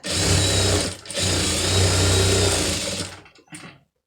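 A sewing machine stitches a blouse patty in a steady whirring run close by, pausing briefly once, then slowing and stopping with a short final burst.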